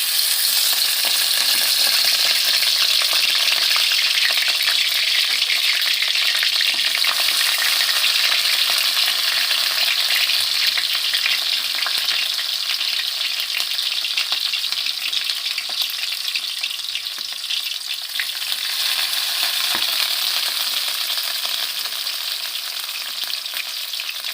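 Egg patties wrapped in bottle gourd leaves fry in hot oil over low heat, giving a steady, loud, dense sizzle that runs unbroken throughout with no voices.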